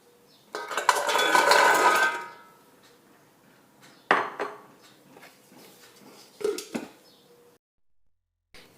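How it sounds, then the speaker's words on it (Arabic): Peeled garlic cloves being crushed for storage in oil, with a long scraping, clattering burst followed by a few shorter knocks and grinding strokes, close and fairly loud with quiet gaps between. "راني نقيت الثوم تاعي ونحتاج معاها نص فنجان تاع زيت ودركا راح نرحيها"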